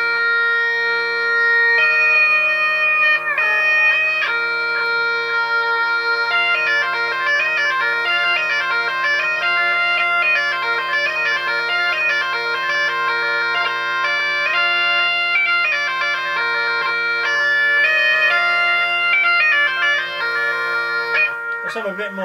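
Electro bagpipes from Germany played through a JAM pedals Delay Llama Extreme set to a basic delay: a steady drone beneath a loud, continuous melody of sustained reedy notes with echoing repeats, playing alone throughout.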